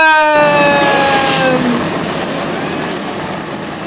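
A field of race car engines fires up at Thornton in a loud, dense roar. Falling whine tones open it, then the sound settles into a sustained rumble.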